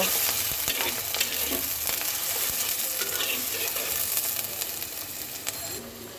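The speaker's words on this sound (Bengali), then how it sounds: "পেঁয়াজ আর কাঁচা লঙ্কাটাকে সুন্দর করে ভেজে নেব" Chopped onion and green chili fry in hot mustard oil with a dense, continuous sizzle and crackle. Stirring scrapes come through now and then.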